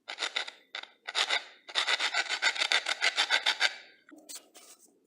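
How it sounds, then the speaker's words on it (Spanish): A metal file rasps back and forth over a rivet on a blender part, short bursts of strokes then a long rapid run of even scraping, close and dry with brief pauses between. "Y se le lima el remache, que es hasta donde ya no se vea nada."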